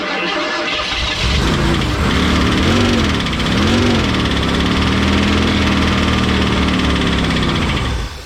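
A Ford 302 V8 in a 1988 Ford Bronco cranks and catches, revs rise and dip a couple of times, then it settles into a loud, steady idle.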